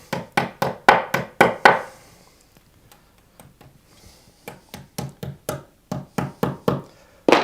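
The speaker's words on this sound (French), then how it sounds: "Alors, je pose des chevilles." Hammer tapping wall plugs into a brick wall: two bursts of about seven quick, loud, evenly spaced knocks each, separated by a quieter pause with faint handling sounds.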